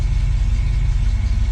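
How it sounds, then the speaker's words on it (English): A 1966 Ford Mustang with a newly installed electric fuel pump idles at about 650 RPM, a loud, close, deep rumble with an even throbbing pulse and no voices. "I'm idling right around 650 RPM."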